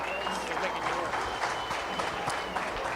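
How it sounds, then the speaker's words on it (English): Applause from the audience at a 4-H and FFA market swine show at a county fair, rising for the reserve champion crossbred barrow; steady clapping carries at moderate volume with crowd murmur and a voice talking over it. "Let's give him a big round of applause."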